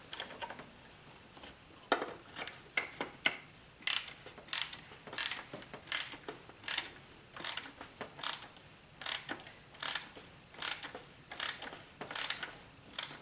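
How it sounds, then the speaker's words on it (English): Full-depth socket wrench ratcheting a new oil filter snug on a 2002 Pontiac Grand Am 2.2L Ecotec, a steady run of crisp, close clicks in short bursts with brief pauses, no talking. "you'll have plenty of room to reach in there with this full-sized, full-depth socket"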